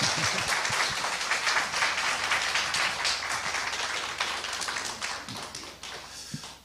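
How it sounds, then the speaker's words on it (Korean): A congregation claps warmly during a Sunday worship service at Raon Global Village Church, welcoming missionary Woo Young-seok to the pulpit; the dense, steady applause fills the room and gradually thins toward the end. "우리 뜨거운 박수로 우리 환영하실까요?"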